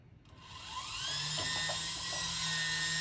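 A Soma Tilt 2 motorized blind motor whirs up to a steady high-pitched mechanical whine after a brief start, with faint clicking of the tilting slats, close and alone.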